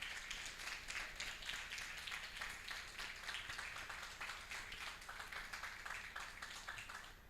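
A church congregation claps together, a dense patter of many hands that keeps an even rhythm. It sounds fairly quiet and distant and lasts several seconds without a break.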